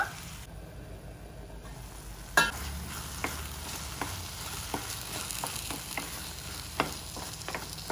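Tomatoes fry in a pan for tomato gojju, a soft steady sizzle with a few light clinks and stirring scrapes, close and fairly quiet.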